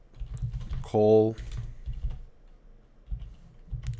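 Computer keyboard typing while building a responsive Bootstrap website, heard as soft clicks under a person's talking, with a brief harmonic voiced sound around the one-second mark.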